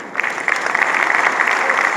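Steady audience applause at a company event, a dense wash of clapping hands that holds at an even level throughout with no break.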